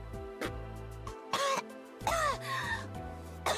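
Several harsh coughs and throat-clearing bursts, close and loud, separated by short pauses in an otherwise quiet space.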